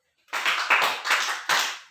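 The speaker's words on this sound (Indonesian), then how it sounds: "Untuk kelompok tepuk tangan dulu" In a seventh-grade math classroom, students clap for a group in a few short, close bursts after a moment of silence, with no talking over them.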